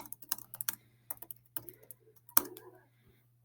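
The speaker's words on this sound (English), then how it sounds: "Students would, on the right-hand side, type in their answer" An answer being typed on a computer keyboard: irregular bursts of close, crisp key clicks with short pauses and one sharper keystroke, in a quiet room.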